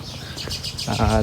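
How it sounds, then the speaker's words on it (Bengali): Birds in a village give a quick series of short, bright chirps close by, and a voice comes in near the end. "এদিকে পাখির ডাক শোনা যাচ্ছে"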